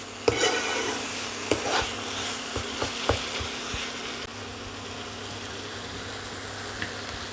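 Filling for kokera pitha stirred in a frying pan, a steady soft sizzle with scraping strokes and a few sharp utensil knocks against the pan, close and moderately quiet, no talk.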